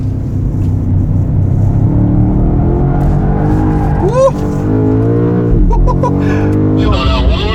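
BMW M5 G90 (2024, 727 hp) engine at around 200 km/h, a steady loud drone with rising harmonics as the throttle is eased, continuous under brief talk.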